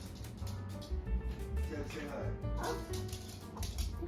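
A family dog yips and whimpers in short, excited bursts indoors, meeting a cat for the first time, while people talk over it.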